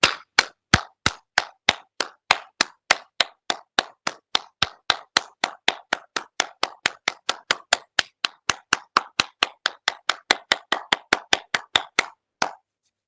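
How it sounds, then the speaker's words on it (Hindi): Brisk, steady hand clapping during a yoga session, dozens of crisp sharp claps in a fast even rhythm lasting about twelve seconds, with no talking over them. "चलिए थोड़ा सा तालियां वादन।"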